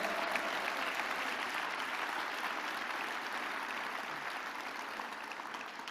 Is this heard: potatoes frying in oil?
no